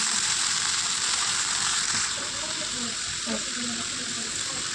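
Broccoli, potatoes and beans fry in a pan tempered with cumin seeds and green chilli, giving a steady, close, crackling sizzle throughout, with a faint voice briefly audible beneath it.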